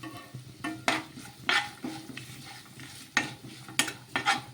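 Turmeric is stirred into a paste in a pan, with a spoon scraping and clinking against the metal in irregular strokes over a soft sizzle, close and alone with no talking.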